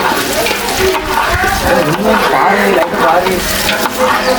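A spoon stirs porridge (kanji) in a cooking pot, a steady scraping and bubbling swish running continuously and fairly loud for the whole stretch, with no talk over it.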